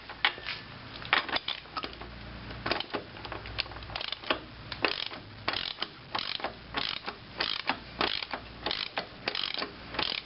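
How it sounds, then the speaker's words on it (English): A new 30 mm axle nut being run onto the CV axle of a 1997 Pontiac Grand Am with a ratchet, giving a close, rapid series of clicking pawl ticks in uneven bursts, with no talk. "we're putting on a brand new axle nut, along with the old washer."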